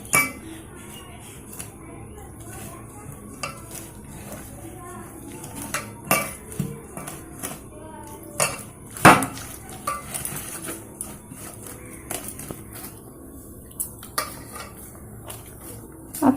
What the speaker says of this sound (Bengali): আপনারা দেখুন এইভাবে একটু জল দিয়ে চালের গুঁড়োটাকে একটু মিক্সড করে নিতে হবে।